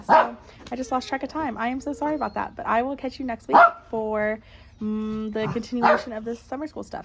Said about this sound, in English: I'm so sorry about my dog in the background